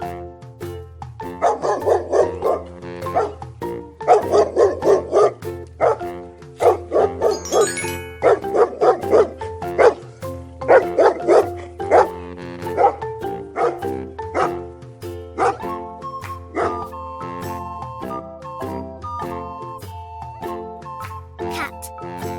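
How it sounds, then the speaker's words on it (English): A dog barks repeatedly in a steady rhythm, the barks set against bright, tuneful background music in a children's farm animal sounds lesson. "Dog,"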